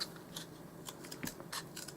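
A knife cuts a dollhouse miniature refrigerator piece, a series of light, crisp snipping and scraping strokes, close and quiet, spaced irregularly across the clip without speech.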